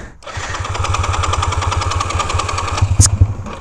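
A small engine, started without the choke, catches almost at once and runs at a steady, close, loud putter with a rapid pulsing beat, a brief sharp rattle near the end.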